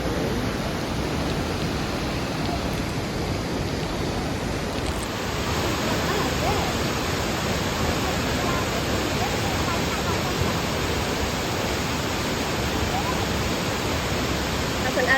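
Steady, loud broadband rush of Franklin Falls, a waterfall on a hiking trail, roaring continuously throughout with no pauses, close and dominant.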